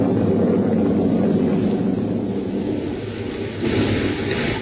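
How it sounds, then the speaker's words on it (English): A thunder sound effect from an old radio drama rolls as a long, heavy rumble that fills the whole stretch with steady, dense low noise, with no talking. "There was thunder and lightning around me, too."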